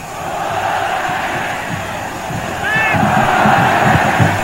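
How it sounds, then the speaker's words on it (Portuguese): Palmeiras fans in a 1994 Campeonato Paulista stadium chant and roar as a steady crowd wash, swelling louder toward the end, while a commentator talks over it. "a torcida do Palmeiras já grita olé"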